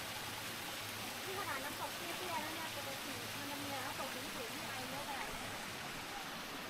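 A constant broad rushing of a hot-spring waterfall at Chae Son National Park, Thailand, with steam rising, steady and fairly distant, with faint voices mixed underneath.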